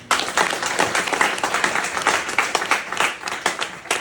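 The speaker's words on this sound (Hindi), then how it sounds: "मैं आपके लिए ताली बजाना चाहता हूं" Audience at a seminar by a fish pond in Bhaderwah clapping, a steady close patter of many hands with sharper individual claps standing out, loud and continuous for about four seconds, no voices over it.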